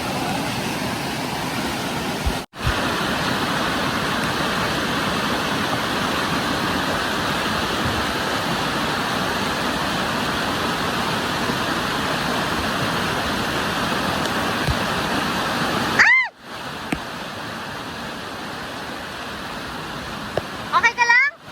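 A waterfall on a Hong Kong trekking trail roars loud and steady for the whole stretch, broken by two brief dropouts, with a voice speaking faintly near the end.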